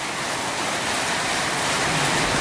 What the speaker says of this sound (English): it's been raining pretty constant.